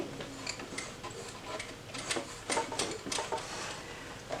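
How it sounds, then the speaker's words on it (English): A sewing machine back stitching fabric for a book sleeve, giving a close, quiet, rapid ticking clatter of the needle with slight changes in pace, and no voices over it. "Coming around to my pin, I'll back stitch a little bit."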